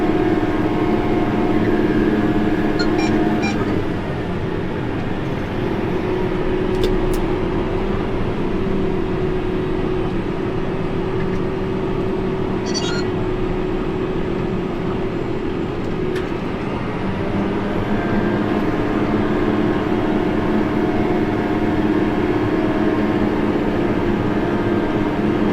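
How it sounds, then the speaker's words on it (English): A tractor pulls a chisel field cultivator through farm ground, its engine droning steadily and loudly throughout, with a couple of faint clicks and no speech. "running the field cultivator. This chisel ground's working up good."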